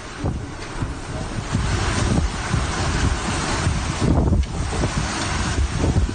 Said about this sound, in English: you can hear the water hitting the pool and you can hear the wind as well just ripping through